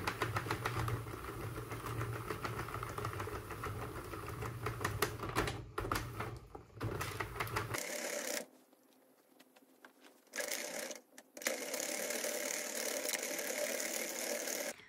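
A hand-cranked knitting machine works on a sweater, its carriage making a steady mechanical clatter that stops briefly twice before resuming.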